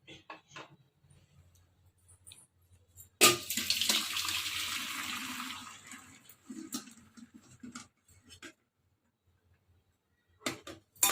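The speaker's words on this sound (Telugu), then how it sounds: "ఈ వేడి నీళ్ళని తీసేసుకోవాలి." Hot water poured out of a pot into a sink while making spicy Telangana-style mutton liver: a steady splashing pour of about three seconds, framed by small kitchen clatters and then quiet.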